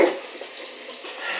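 Water runs steadily from a tap into a sink, a continuous close hiss with a brief clunk at the start.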